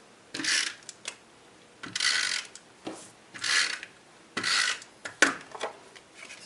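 A snail adhesive tape runner rolls glue onto paper pieces for a card base, making several short rasping, clicking strokes of about a second each, close and fairly loud, with brief pauses between and no talking.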